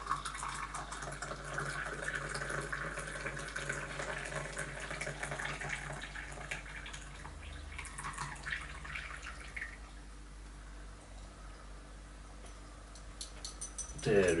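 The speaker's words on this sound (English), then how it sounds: "Let's pour some water in it." Water pours into a teapot for a quick rinse, a faint trickling, splashing flow running for several seconds and tapering off, with quiet background noise and a brief louder clatter at the end.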